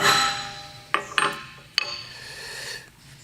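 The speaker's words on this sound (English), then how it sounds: "just take the center punch and just punch it just like you normally" A center punch is struck into a cast iron part, giving three sharp metallic taps, the first two close together and the third a moment later, each ringing briefly over a faint background hum.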